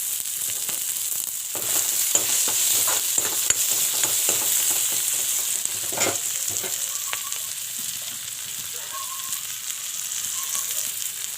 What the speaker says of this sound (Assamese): আৰু পুনৰ ইয়াতে পিঁয়াজ দিলোঁ গোটা জিৰা দি দিছোঁ